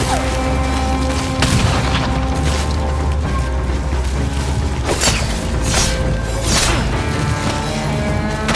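Booming gunfire and crashing impacts from the video game Ghost of Yotei over a dense, continuous soundtrack, with repeated sharp bursts scattered throughout.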